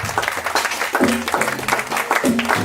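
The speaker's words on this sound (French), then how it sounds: "Est-ce que tu peux acclamer pour le Seigneur?" A church congregation applauding and cheering for the Lord, steady dense clapping from a crowd close by, mixed with shouted voices over the whole short stretch.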